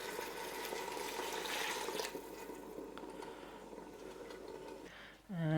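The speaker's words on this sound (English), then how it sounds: "Add a little bit of water." A little water is poured into a pot of tomatoes and softened vegetables, making a steady close splashing hiss that fades out toward the end.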